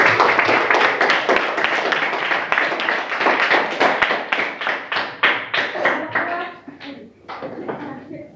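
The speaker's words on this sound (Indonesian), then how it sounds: "kita beri aplaus kepada kamu" Classroom applause for a student at a junior high school in Arso: a burst of many hands clapping, close and loud, thinning into scattered claps near the end.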